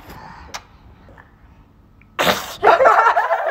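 A person sneezes in a sneezing contest: a quiet lead-in with faint sounds, then a sharp, loud burst of a sneeze followed by a noisy exhale or reaction, close up.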